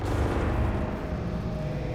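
The Soul Explosion technique in the Minecraft mod Jujutsu Craft sets off a deep, heavy rumbling blast that sustains loudly and fades slightly by the end, with no talk.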